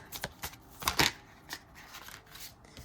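Tarot cards are shuffled and handled during a horoscope reading: a few quick, close riffling and flicking bursts, papery and fairly quiet, with short pauses between them.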